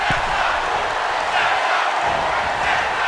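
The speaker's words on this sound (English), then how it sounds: "The sound of this crowd is deafening" Loud, continuous roar of a wrestling arena crowd cheering in a video game, a dense wall of massed voices filling the whole stretch without pause.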